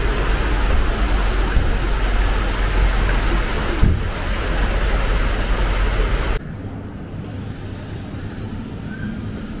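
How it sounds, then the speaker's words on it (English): Heavy rain pouring down in the city of Mostar, Bosnia, a dense steady hiss of falling water that drops abruptly to a softer patter partway through, with a faint low rumble near the start. "the heavens are now opened up and"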